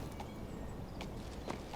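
Horse hooves clip-clop at a walking pace in the video game King's Bounty II, a few soft, moderately near steps over a steady background hum.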